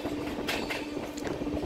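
Rupasi Bangla Express runs between Santragachi and Purulia, a faint, brief stretch of rolling rail noise with a few soft clacks and squeaky bursts, no speech.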